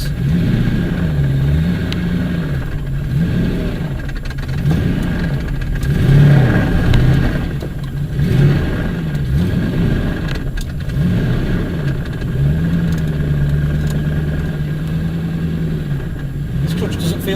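A Nissan 350Z with a newly fitted six-speed manual gearbox and twin-plate ceramic clutch, its engine droning close by at low revs with gentle rises and dips as the car creeps off in reverse, while a person talks over it.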